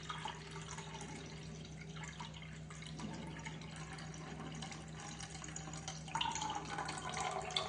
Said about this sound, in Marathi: हे पाणी काढून ह्याच्यात पुन्हा स्वच्छ पाणी टाकणार आहे.